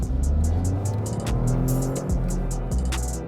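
Toyota GR Corolla on sticky tires during a driving test, engine revving hard and accelerating close by with quick gear changes, a loud continuous drone over roughly three seconds.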